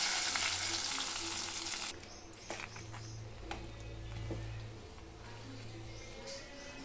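Mustard seeds, dried red chillies and curry leaves sizzle in hot oil or ghee as a tempering for bisi bele bath, a loud steady frying hiss that drops to a softer crackle partway through.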